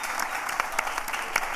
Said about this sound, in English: Round of applause for Carolina, Miguel, and Roberto.